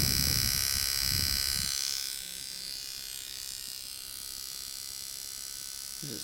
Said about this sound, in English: Just the turning of the motor